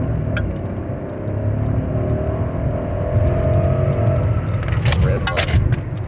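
Mercedes S600 W220 biturbo engine pulling under acceleration, a steady low rumbling whir that builds slightly, heard from inside the car along with road noise.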